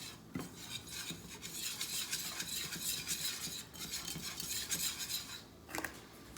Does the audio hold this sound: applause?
no